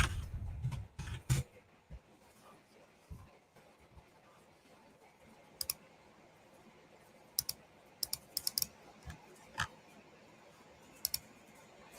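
Someone types on a computer keyboard while searching an online marketplace: scattered bursts of crisp key clicks and taps separated by quiet pauses, close by and fairly soft.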